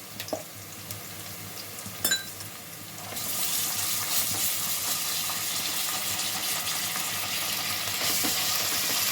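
Shahi jeera and ginger garlic paste frying in hot oil for carrot rice; a quiet kitchen backdrop with a couple of clinks gives way to a steady, loud, close sizzling hiss that continues to the end.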